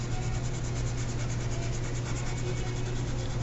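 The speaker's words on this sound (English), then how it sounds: "spend some time just blending and rubbing" Charcoal is rubbed and blended across paper while drawing an apple, giving a continuous, even, soft scratchy rubbing that is close and steady throughout, with no speech.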